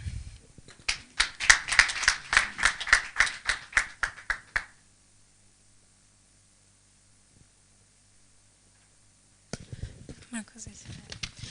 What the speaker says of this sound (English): Another big round of applause to Ngoga Jeune Fixer.